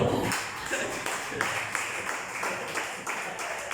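A church congregation applauds at a pastor's call during a sermon, a steady wash of clapping that holds for several seconds with a few sharper individual claps standing out.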